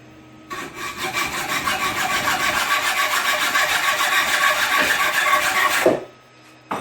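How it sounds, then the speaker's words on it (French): A hand file rasps back and forth across a metal axle in a workshop, a loud continuous scraping run of about five seconds that ends with a clack. "Et là je lime."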